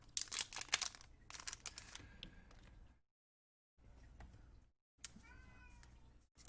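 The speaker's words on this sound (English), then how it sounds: "my cat's meowing at the door" A cat meows at a door, a faint, distant cry near the end, alongside crinkling and handling noises close by.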